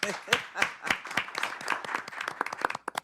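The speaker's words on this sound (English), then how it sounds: "Clap it up." A crowd at a school board meeting claps and applauds, a dense patter of many hands with sharp individual claps standing out, fairly close and steady throughout.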